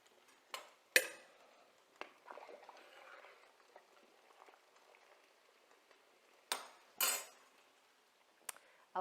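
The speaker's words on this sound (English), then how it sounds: "I'm going to continue chopping this spinach" A knife chops fresh garden spinach on a cutting board in a kitchen, with a few sharp, scattered knocks and some softer taps between them. The sounds are close and fairly quiet, with no talking.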